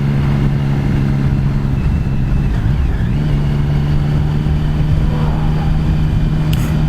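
2015 Triumph Speed Triple R motorcycle being ridden, a steady loud engine drone under constant wind rush, with the pitch dipping and rising around a gear shift midway.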